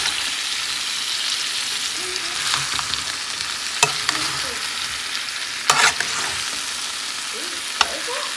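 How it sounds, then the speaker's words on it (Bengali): Potatoes, cauliflower and paneer being stir-fried with spices in a pan, a steady loud sizzle throughout with intermittent scraping stirs and a few sharp clinks of the spoon against the pan. "এবার মশলার সাথে ভালো করে কষিয়ে নেব।"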